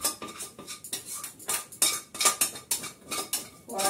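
A heavy wok and pans clatter in a home kitchen, a steady series of sharp metallic clanks and scrapes close by, with no talking.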